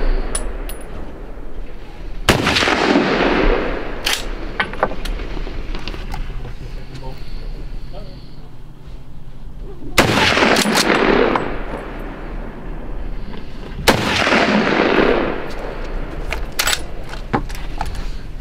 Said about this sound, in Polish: Strzelamy.